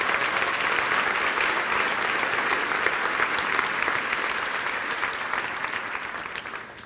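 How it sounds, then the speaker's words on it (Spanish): A church congregation breaks into loud, sustained applause that fills the room steadily before tapering off slightly toward the end, with no talking over it. "dele un aplauso que se caiga este templo"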